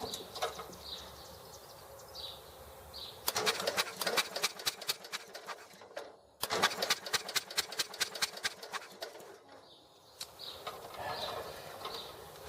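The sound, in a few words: small engine starting and running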